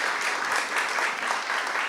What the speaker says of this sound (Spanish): Un aplauso ahí